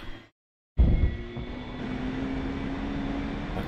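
The A-4E-C Skyhawk jet engine in DCS World spools up under throttle after a short silence, a sudden loud onset that settles into a steady, close roar with a faint high whine.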